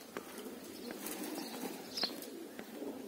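Pigeons take off together in a burst of wing flapping, with a few faint coos and chirps over quiet outdoor background.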